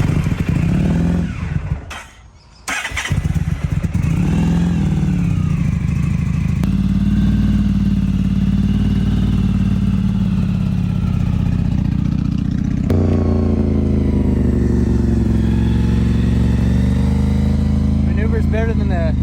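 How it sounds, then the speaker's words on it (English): An abandoned, cheap motorcycle fired up with carb cleaner clatters and revs at the outset, stumbles briefly, then settles into a loud, steady close idle that shifts pitch slightly as the throttle changes. "a little whiff of carb cleaner and it fires right up"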